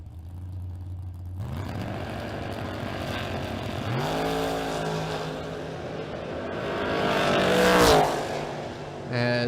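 Drag racing cars, including a Withrow-owned Nova, roar down the strip at a spring King of the Creek event, loud engine revs rising and shifting as a pair launches, with a track announcer talking over the noise.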